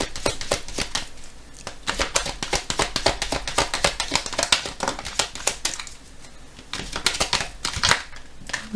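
Oracle cards are shuffled by hand in a rapid run of crisp riffling taps and flutters, a brief pause, then a final burst, all close and with no talking.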